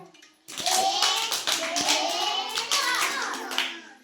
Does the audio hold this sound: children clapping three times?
yes